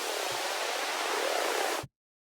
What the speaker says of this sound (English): This one, reversed white noise.